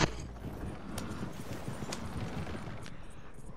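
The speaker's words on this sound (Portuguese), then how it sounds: "o meu mais humilde cavalo é o Raul" Horse hooves clip-clop steadily in Red Dead Redemption 2, a moderately loud walking rhythm with occasional sharper knocks and no talk over it.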